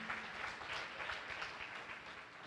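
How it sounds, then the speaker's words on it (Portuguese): A church congregation applauds in a soft, even wash of many hands, faint and distant, with no break across the short stretch. "pode aplaudir o Senhor"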